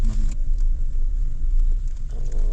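A motor vehicle drives along a road, its engine and tyre noise forming a steady, close rumble throughout, with no voices.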